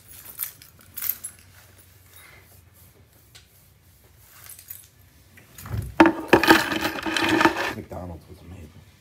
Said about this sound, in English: Are those your keys?